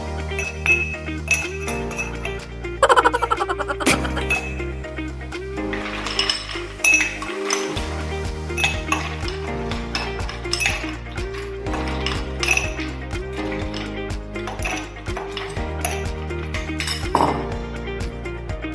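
Ice cubes clink and rattle into a glass while a mojito is being made, with bright, close clinks scattered over steady background music.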